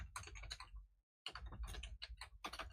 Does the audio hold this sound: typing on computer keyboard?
yes